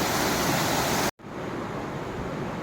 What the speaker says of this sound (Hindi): देखो ये रास्ते में सुंदर नज़ारे भी देखने को मिलेंगे, छोटे छोटे झरने हैं